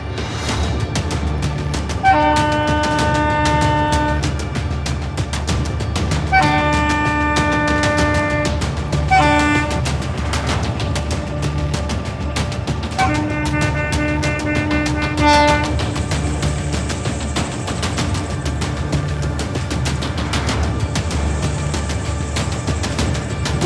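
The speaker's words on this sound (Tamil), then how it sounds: "ரயில் ஒன்று கால்நடைகள் நிற்பதைக் கண்டு சுமார் 5 நிமிடங்களுக்கு மேலாக ஹார்ன் அடித்தும்" A train horn blasts repeatedly in long, loud tones over the rumble and clatter of a passing train stopped by cattle on the tracks, with sustained honks spread across the scene.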